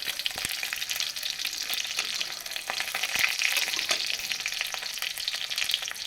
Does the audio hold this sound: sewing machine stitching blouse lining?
no